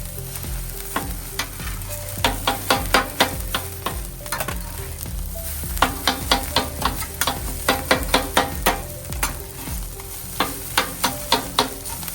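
Eggs infused with ginger and garlic are folded through sizzling fried rice in a hot pan, steady frying hiss under repeated quick scraping strokes of a spatula, close and rhythmic.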